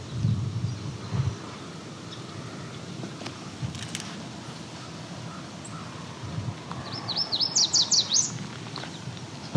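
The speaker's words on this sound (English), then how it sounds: "definitely yellow warbler." A yellow warbler sings a brief, bright series of high chirping notes near the end, over soft rustling and faint outdoor ambience on the Ferndale Flats.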